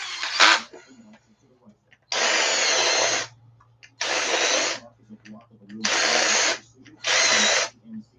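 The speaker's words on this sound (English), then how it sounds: "Easy way to fix flashing is countersunk bit." A power drill with a countersunk bit grinds off leftover plastic flashing on an RC truck part in four or five loud, even bursts of a few seconds each, separated by short pauses with faint talk.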